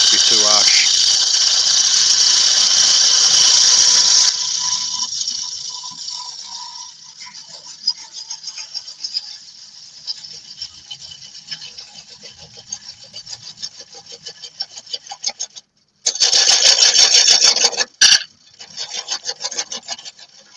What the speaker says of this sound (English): I'm going to be using my bull gouge.